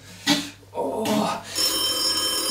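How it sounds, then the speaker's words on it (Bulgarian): A phone rings indoors in a hair salon, its bell tone entering partway through and sustaining steadily to the end, following a brief burst of other sound and raised voices. "Тъпият телефон звъна точно сега, цял ден ги чакам!"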